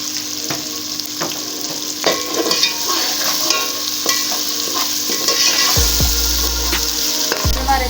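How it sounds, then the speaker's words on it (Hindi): Green peas frying in a pot for mixed vegetable pulao, seasoned with whole salt, sizzling steadily while a spoon scrapes and stirs in repeated clinking strokes, close and clear with no talk. "3-4 मिनट के लिए आप मटरों को अच्छी तरह पका लें।"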